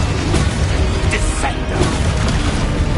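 Fire-blast spell explosion in a Hogwarts wizarding video game: dense, loud booming blasts and crackling bursts rolling continuously, with game effects layered throughout.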